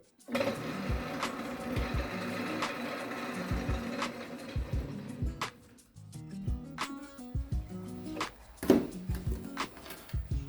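A Robot Coupe CL50 Gourmet food processor runs with a busy, rattling motor whir broken by rhythmic mechanical knocks and clicks, moderately loud and close.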